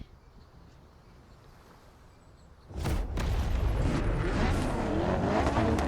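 A hypercar engine in the racing game The Crew Motorfest roars in suddenly after a quiet stretch, then stays loud and close, revving hard and holding a full, steady drone to the end.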